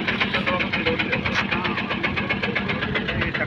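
An auto rickshaw engine pulls up at a roadside tyre-puncture repair stop, its loud, close, steady mid-pitched chugging and rattle running throughout with voices talking over it.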